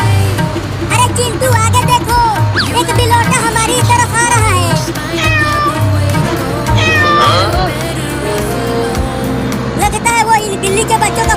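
Kittens meow repeatedly in high, wavering cries over a steady background of music and engine-like hum.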